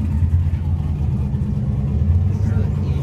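Mercedes E55 AMG engine at a drag race, a loud, close, steady low rumble as it idles and revs, with voices faintly audible.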